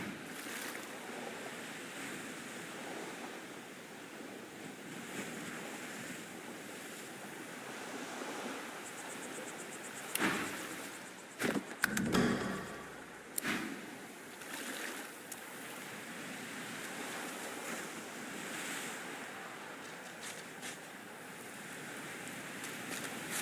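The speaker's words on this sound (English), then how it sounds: "The woman looks out on the gently lapping waves." Gentle waves lap on a shore in the video game Divinity: Original Sin II, a steady wash of surf and wind with a brief cluster of louder splashes midway.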